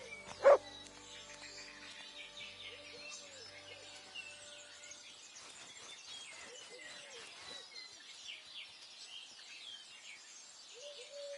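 A dog in the Kingdom Come Deliverance 2 video game lets out one loud, close bark at the start, followed by quieter ambient birdsong and chirping crickets.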